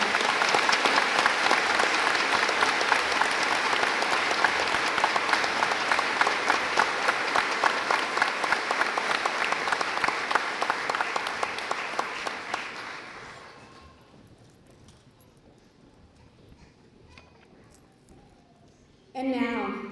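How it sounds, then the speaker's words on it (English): Audience at a graduation ceremony breaks into sustained, loud applause with cheers for about thirteen seconds before fading to quiet room murmur, then a voice speaks briefly at the end. "Please join me in another round of applause"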